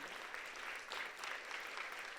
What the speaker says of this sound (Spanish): ¿Quién le da un aplauso a Dios?